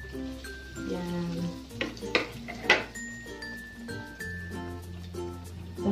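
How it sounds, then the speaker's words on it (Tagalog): Breaded chicken fillet, coated in flour, egg and breadcrumbs, fries in hot oil with a steady close sizzle, a few louder crackles and light clinks of utensils over a sustained tonal background. "fry lang natin siya until golden brown"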